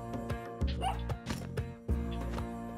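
Dog in Spelunky 2 giving a few short yips and barks, close and moderately loud over a steady game music bed, no talking.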